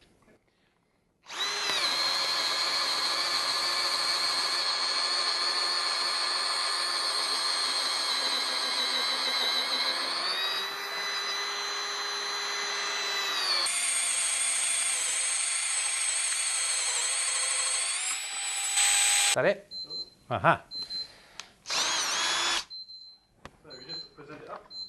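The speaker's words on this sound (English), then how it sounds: "we're going to drill some fairly large holes in this fence post in first gear with this machine" A Bosch cordless drill in first gear bores large holes into a wooden fence post, a loud sustained whine with the pitch shifting as it bites, then stopping and restarting in short bursts near the end while someone speaks briefly.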